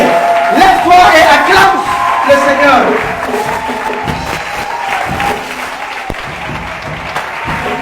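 A church congregation claps and cheers with sustained, loud applause that fades slightly toward the end, mixed with shouts and voices from the crowd.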